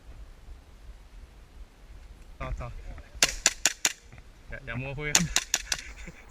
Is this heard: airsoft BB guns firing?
yes